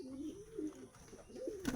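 Pigeons of high flyer breeds coo softly and close by, low rolling warbles repeating in two or three phrases against faint background noise.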